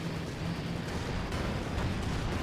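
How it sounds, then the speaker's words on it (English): A cannon shell explosion in the World War II strategy game Company of Heroes 2, heard as a dense, rumbling roar of battle noise that stays steady and loud for the whole moment. "is that a nice cannon bomb?"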